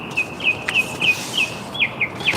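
A neighbor's parrot calls loudly from next door, giving a quick series of sharp, chirping cries that repeat in an uneven rhythm over a faint background hiss. No one speaks.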